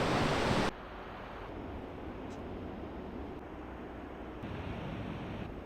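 Rough surf breaks at a beach beside a lagoon as a steady, broad roar of waves. A burst of wind buffeting the microphone comes first, then a constant wash of water.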